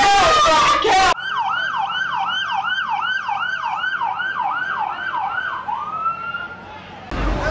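An ambulance siren wails in a steady, repeating up-and-down cycle, loud and close, filling several seconds between short bursts of speech at the start and end, out on a Miami Beach street.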